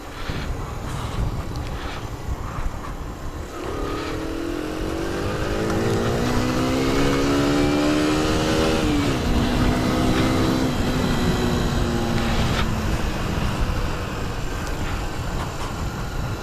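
A Sinnis Max2 125cc motorcycle engine rides along, its drone rising and falling as it shifts through the gears, steady and close under heavy wind noise.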